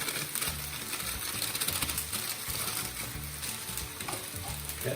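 Biryani masala is worked into yogurt with garlic and ginger in a Saladmaster pan for chicken biryani, producing a steady close sizzle with soft scraping and clicking stir strokes throughout.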